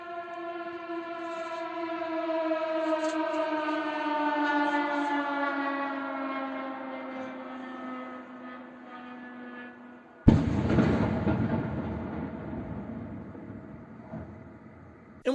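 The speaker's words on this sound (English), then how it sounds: "drones are going by, and you can hear it as it goes by, and it's terrifying because it's pitch dark out, and then boom, an explosion" Attack drones fly over in the pitch dark in Ukraine, a steady droning buzz that slowly falls in pitch for about ten seconds before a sudden loud explosion cuts in, followed by a rumbling aftermath.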